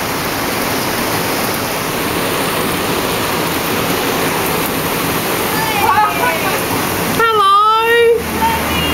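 Heavy rain pours steadily on the Gold Coast, a dense continuous roar throughout, with a brief whistle and voices rising near the end.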